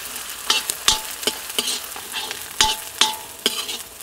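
Onions with ginger-garlic paste frying in a pan, a soft sizzle broken by about eight sharp stirring clinks and scrapes at an uneven pace, close and with no voices.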